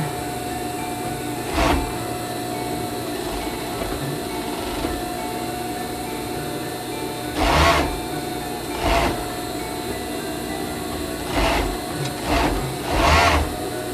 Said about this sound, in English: And you're going to sew this.